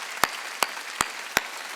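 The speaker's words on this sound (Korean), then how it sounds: "박수 치려면 세게 치라고 세게." A Korean church congregation at Sunday worship claps hard in unison, giving four sharp, evenly spaced claps over a steady background hum, with no talking.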